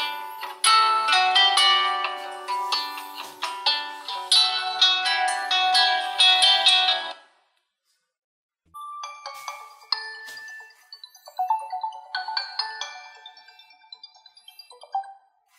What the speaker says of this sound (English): we can even answer calls and stop alarms using the fingerprint scanner